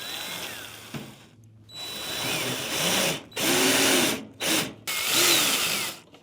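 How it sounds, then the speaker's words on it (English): A power drill drives roofing screws into a 2x4 with a nailed-on box, whirring in several bursts of varying length separated by short pauses, close and loud. "I also put these two roofing screws into the 2x4 that the box is nailed to"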